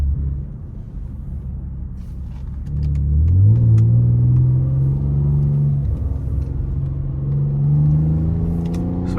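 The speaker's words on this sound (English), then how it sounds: "I don't know how well you can hear those downshifts" 2012 Ford Taurus SHO with a broken exhaust, heard from inside: a loud, steady rumbling engine drone that swells and rises in pitch as it downshifts and revs, then holds a strong hum.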